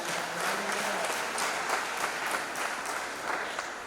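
A church congregation applauds in praise during a Christmas service, a steady wash of many hands clapping that holds evenly for about four seconds.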